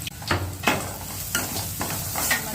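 Curry leaves, ginger and garlic sizzle in a pan for vada pav filling, under a few close, rhythmic stirring strokes that scrape and rustle briefly.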